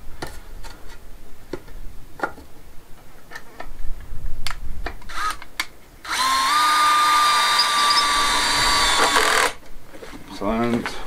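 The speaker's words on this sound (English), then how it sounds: "I've got my drill in a bit, you see." A power drill with a bit fitted whirs steadily for a few seconds while working on a courtyard, with short clicks and knocks before and after and brief voices around it.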